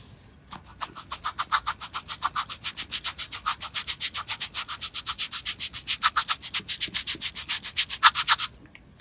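Rapid, rhythmic scraping strokes repeat for several seconds, a steady back-and-forth rasping like a brush scrubbing grit out of a hole, as dust is cleaned from a hole drilled in rock for an expansion bolt.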